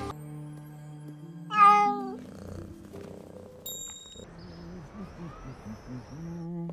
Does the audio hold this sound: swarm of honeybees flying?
no